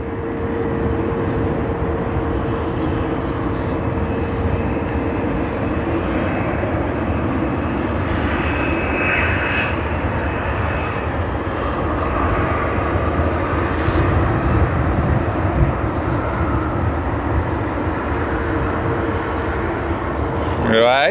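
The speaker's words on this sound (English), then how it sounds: "Qantas 737 photobombing us" A Qantas Boeing 737 jet passes at Sydney Airport, a steady broad engine roar holding loud and unbroken throughout, with voices talking over it.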